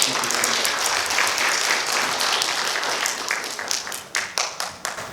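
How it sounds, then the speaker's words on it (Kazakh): An audience at a literary meeting with a writer breaks into dense, sustained applause that thins out toward the end into a few separate claps. "Ал қол шапалақтап"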